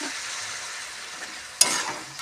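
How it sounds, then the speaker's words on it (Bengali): Spiced vegetable masala fries in a pan for a mixed dal, a soft steady sizzle that suddenly flares into a louder hiss and bubbling burst as water is poured in near the end, close by, no voices. "মশলা কষা হয়ে গেছে, একটু সেদ্ধর জন্য আমি দিয়ে দিচ্ছি পরিমাণ মতো জল।"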